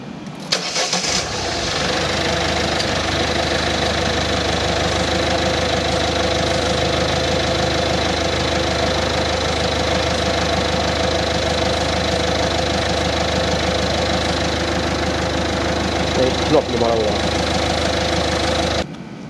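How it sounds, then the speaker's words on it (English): A Citroen/Peugeot 1.6 HDi diesel engine cranks and catches, then settles into a steady, loud clattering idle that runs on evenly, with a brief knock or rattle near the end. "You don't rev the engine when you're starting it, just let it idle it until the oil pressure comes up."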